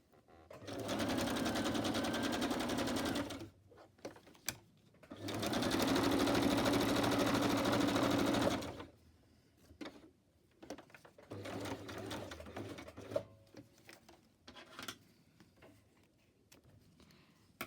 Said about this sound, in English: what I'm going to do is just catch it when I stitch across